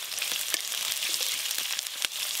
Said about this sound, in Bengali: এবার আমি পেঁয়াজ কুচি দেব।